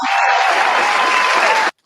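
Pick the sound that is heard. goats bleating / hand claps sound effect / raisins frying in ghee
hand claps sound effect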